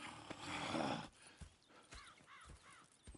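A horse in the Red Dead Redemption 2 video game snorts and whinnies loudly, followed by a few quieter hoof thuds and soft snuffles.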